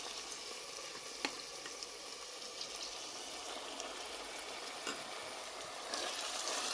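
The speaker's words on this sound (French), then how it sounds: "je laisse le tout cuire ensemble à feu moyen" Sole fish with peppers, chili and marinade braises in a pan over medium heat, giving a faint, steady sizzle and bubbling with a few soft ticks and no talk.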